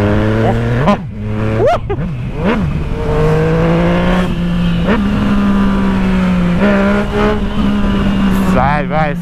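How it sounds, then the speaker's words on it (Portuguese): A Yamaha MT-09 motorcycle accelerates through rising and falling revs, with several sharp upshifts and a strong engine whine that stays loud and close throughout, and a rider's voice comes through in places. "Acelerar a motoca te deixa pra trás."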